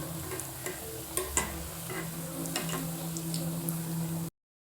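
Bread rolls fry in hot oil with a steady soft sizzle and scattered small ticks and pops, close up, with no talking.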